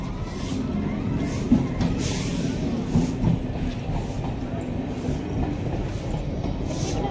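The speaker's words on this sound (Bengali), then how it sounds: "এখন ট্রেন আসছে" A train passes steadily nearby, its railcars producing a continuous rumble with rhythmic clickety-clack of wheels over rail joints and faint squeals, sustained throughout with some background voices.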